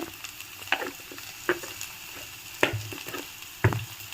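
Dondakaya (ivy gourd) frying in a pan with turmeric, a quiet low sizzle broken by a few sharp stirring scrapes and clinks spaced about a second apart.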